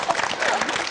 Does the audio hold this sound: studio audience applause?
yes